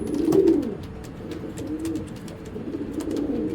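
A racing pigeon coos nearby in low, rolling, throaty phrases repeated several times over a few seconds, with no talking.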